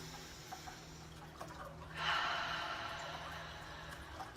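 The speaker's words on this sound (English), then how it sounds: "So we're gonna take a deep breath." A slow, deep breath drawn in through the nose and then let out, a soft airy rush swelling near the middle and fading gradually in a quiet room.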